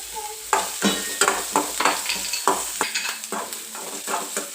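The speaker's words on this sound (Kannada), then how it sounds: "ಈರುಳ್ಳಿ ಹಾಕಿ ನೀಟಾಗಿ ಅದನ್ನು ಹುರ್ಕೊಳ್ಳಿ ಒಂದು 2 ಮಿನಿಟ್ಸು." Onions fry in a pan while being stirred, giving a continuous sizzle broken by repeated scraping and clattering strokes, close and loud, with no talk.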